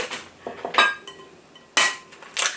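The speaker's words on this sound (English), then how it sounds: "Crack 2 eggs in there." Two eggs are cracked against a bowl for homemade Italian meatballs, with sharp close taps and clinks in separate bursts and quieter handling noise between them.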